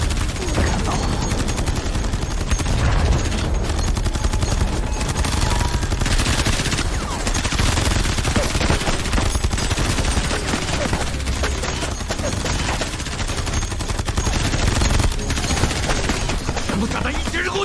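Heavy sustained gunfire in a battle aboard a shipwreck, dense rapid bursts of shots and explosions layered into a loud, unbroken roar with faint voices underneath.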